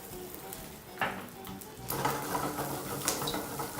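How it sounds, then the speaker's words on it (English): Smoked sausage dropped into an oiled pan on high heat: a clatter of pan contact, then a rising, crackling sizzle that keeps spitting quietly. "And now proceed to add your smoked sausage."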